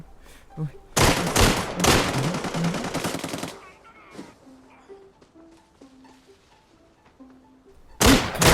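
Gunfire in the shooter game Arena Breakout: loud, rapid automatic bursts for a couple of seconds, then quieter scattered game sounds, and a final loud burst of shots at the end.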